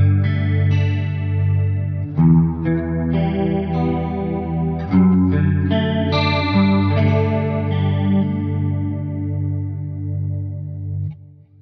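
Guitar played through a Neural DSP Soldano SLO 100 amp plugin with a chorus modulation effect, giving a wavering, rotary-speaker-like shimmer to sustained distorted chords and notes, loud and continuous with no talk.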